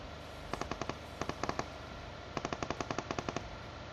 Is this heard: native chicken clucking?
no